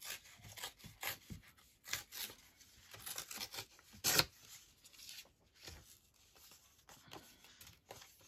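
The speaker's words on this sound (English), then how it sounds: "So I'm going to tear this." Packaging torn by hand for a craft envelope, a few short ripping and rustling bursts with one sharper tear near the middle, close and fairly quiet, no talking.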